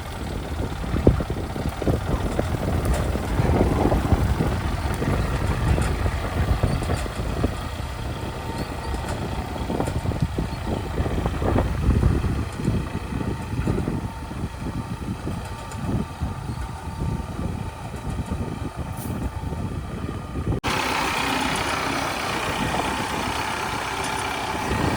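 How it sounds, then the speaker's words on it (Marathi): A tractor works a village farm field, turning the soil for sowing, its engine a steady, moderately loud rumble and drone that runs the whole time with no talk over it. "बघा या साईडला ट्रॅक्टरने फिरणी करतात."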